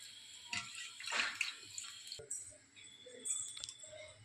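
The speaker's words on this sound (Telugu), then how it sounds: "కూల్ వాటర్తో వెన్నని 2-3 సార్లు నీట్గా కడగాలి." Churned butter is washed in a bowl of cool water for homemade ghee, soft sloshing and swishing of water close by with a few faint clinks against the bowl, no speech.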